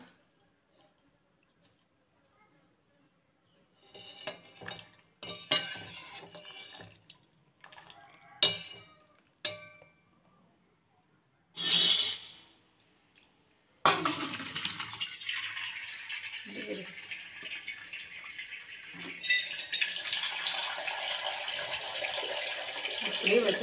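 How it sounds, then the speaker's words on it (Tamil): Cooked pasta is moved into another vessel with a few clinks and scrapes, then cold tap water pours over it in a steady, close gush that runs for several seconds, with no talk. "அதுக்கப்புறம் நம்ம இன்னொரு பாத்திரத்தில் மாற்றிட்டு கொஞ்சம் பச்சை தண்ணி உடனே ஊற்றிடுங்க."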